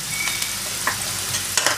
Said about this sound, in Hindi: उसको फ्राई कर लेंगे।